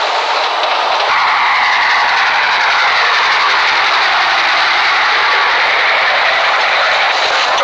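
Steady, loud rumble of a moving train: a continuous broadband roar that holds level throughout, close and unbroken, with no speech over it.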